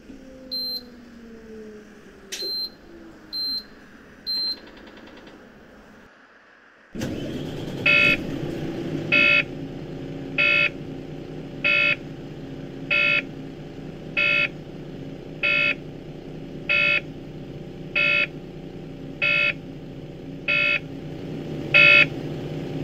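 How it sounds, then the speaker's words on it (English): Warning beeps sound inside a Volvo B8RLE Wright Eclipse 3 bus: a few separate tones come first, then the engine starts and a regular series of loud, evenly spaced beeps repeats over the steady engine hum. "Beep."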